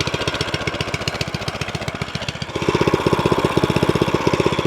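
A VEVOR 6.5HP plate compactor engine idles at its lowest speed, a loud, steady rapid chugging that steps up slightly louder and fuller midway, with no one talking.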